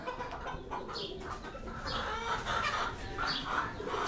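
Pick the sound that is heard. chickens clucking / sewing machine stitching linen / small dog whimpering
chickens clucking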